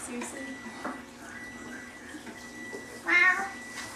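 A domestic cat meows once, short and fairly clear, while being petted indoors, with faint background noise and a quiet voice.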